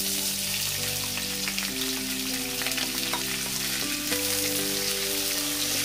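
Chopped onions frying with whole garam masala spices for mutton bhuna masala, a loud, steady sizzle with scattered crackles and a constant background hum, no voices.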